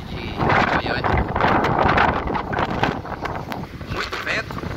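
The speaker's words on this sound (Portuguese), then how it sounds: "Muito vento." Heavy wind from a dust storm sweeping through the west of Goiânia, Brazil, a loud continuous gusting roar that rises and falls, close to the microphone, with someone speaking briefly under it.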